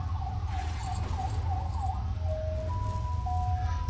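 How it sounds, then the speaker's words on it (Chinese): An ambulance siren passes outside, its wavering wail shifting into steady high tones, moderately distant and set against a constant low rumble and game sounds. "现在外面有救护车的声音，可能会很大声"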